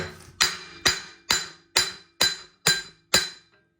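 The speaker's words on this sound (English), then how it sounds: "Now I'm also going to use that same scrap piece of DOM to just drive out the old race as well." A hammer drives an old bearing race out of a Ford Super Duty Dana 50/60 axle using a scrap piece of DOM steel tube, eight sharp metallic strikes in a steady rhythm, close and loud, with no talking.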